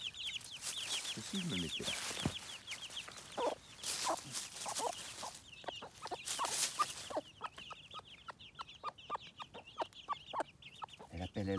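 A hen clucks repeatedly to call her chicks, with rapid, soft, close clucks and high peeping from the chicks around her, while a person speaks briefly over the farmyard sounds.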